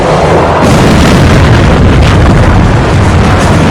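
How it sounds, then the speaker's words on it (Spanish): An asteroid exploding in Earth's atmosphere gives a loud, sustained, distorted roar of rumbling blast noise that fills the whole stretch without a break. "Una explosión cósmica."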